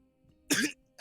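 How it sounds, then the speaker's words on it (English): A woman wakes coughing and spluttering: a short, harsh burst of coughing and throat-clearing, close and loud, with quiet moments on either side. "coughing and spluttering"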